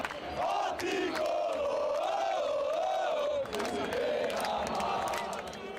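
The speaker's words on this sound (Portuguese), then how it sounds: "Com esse grito, a torcida tricolor começou a acompanhar o jogo" São Paulo supporters in a stadium chanting together in a loud, wavering sung crowd chorus that swells and dips, with cheering bursts.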